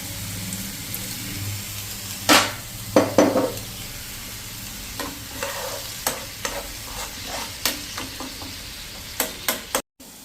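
Tomatoes with salt and a little water cook in a pan with a low simmering sizzle, broken by sharp scraping clinks as a spoon stirs at irregular intervals.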